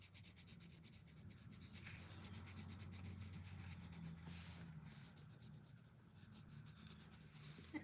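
A crayon scratches and rubs across paper in continuous strokes while coloring a Tangled Rapunzel enchanted flower picture, faint and close with a soft rhythmic rasp.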